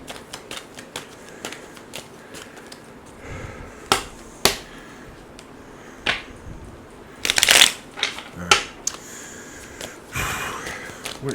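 Tarot cards shuffled by hand in a series of crisp riffling and slapping bursts, some sharp and short, one longer cascade midway, close and clear over quiet room tone.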